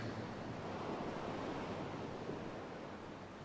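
Ocean waves wash along a seashore, a steady broad surf roar with faint wind, continuous and fairly distant, with no voices.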